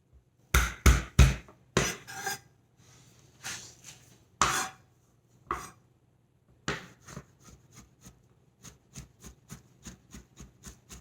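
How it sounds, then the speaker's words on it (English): Peeled garlic is smashed and chopped with a knife on a board: a burst of sharp, close thumps, then a steady run of rapid, lighter chopping taps, with no voices. "I'm gonna smash it down with my knife."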